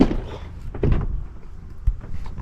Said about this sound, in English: Let's see if this door's open.